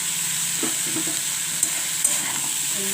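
Bori, small sun-dried lentil dumplings, frying in hot oil in a pan while being stirred, a steady close sizzle with faint scraping and a few soft clicks, no voices.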